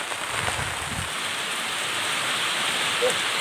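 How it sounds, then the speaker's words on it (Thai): Heavy rain pours down in strong wind beside a rice field. The hiss of the downpour is steady and close, and a few low thumps or muffled sounds come through early on. "ฝนตกครับฝนตก"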